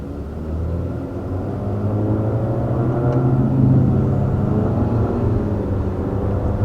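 A 2020 Infiniti QX50 is heard from inside the cabin as it drives through corners, with a steady low engine and road rumble and a soft whir that swells slightly midway. No one speaks.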